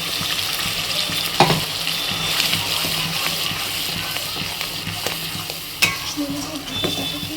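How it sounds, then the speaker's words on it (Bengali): Onion, ginger and garlic paste fries and sizzles steadily in a pan for a soya chaap curry, with a spoon stirring and scraping against the metal and a couple of sharper knocks, loud and close, no talking. "পেঁয়াজ রসুনটা একটু ভাজা ভাজা হয়ে গেছে"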